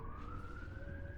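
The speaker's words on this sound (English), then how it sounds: "I've got like a half-wolf, and he's howling in the background." A half-wolf dog howls along with a passing ambulance siren, producing a long, sustained, slowly rising tone that is faint and distant beneath a low rumbling background.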